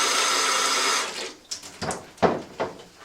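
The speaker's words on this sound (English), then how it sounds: "if I just take some water out of the faucet" Tap water runs steadily from a faucet into a container for about a second, then stops, leaving a few separate splashes and clinks.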